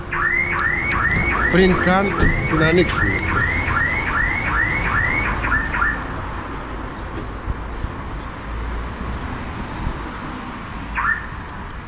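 An aftermarket alarm and tracking system fitted to an Audi Q3 goes off with a rapid, repeating rising-chirp siren for several seconds, then stops, leaving a quiet hum and one short chirp near the end; someone speaks briefly.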